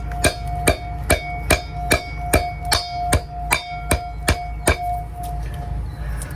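A hammer strikes a metal seal driver to tap a seal into place, about a dozen sharp ringing clangs in a steady, evenly spaced rhythm, close and loud, with no talking.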